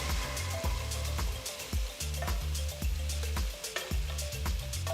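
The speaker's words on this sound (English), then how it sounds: "Saute the tomatoes for 5 minutes." Sliced tomatoes sauté with golden fried onions in a pan, a soft continuous sizzle broken by repeated rhythmic scraping and stirring knocks of the spatula.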